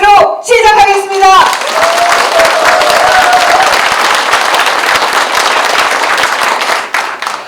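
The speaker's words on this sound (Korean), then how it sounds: "여러분의 힘찬 박수로 시작하겠습니다" An audience claps loudly to open a local election candidates' debate in Jeongseon, South Korea. Dense, sustained applause follows a host speaking over a microphone, then tapers near the end.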